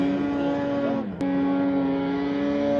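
A snowmobile engine revs hard while high marking a snowy hill, a loud, sustained, buzzing drone that dips briefly in pitch and then climbs back to full throttle, heard up close with no talking.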